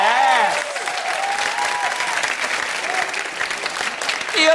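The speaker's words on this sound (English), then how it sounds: "The applause of recognition." A television talk-show studio audience breaks into steady, dense applause that holds evenly for a few seconds, with a voice speaking over the clapping at the start and end.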